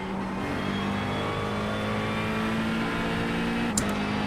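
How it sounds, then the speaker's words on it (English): Sim racing car engine at Spa, stuck in first gear, droning steadily at high revs with a sustained tone and a brief sharp blip near the end, loud and continuous with no talk. "When I heard the RPM spike up like that, I was like, oh crap"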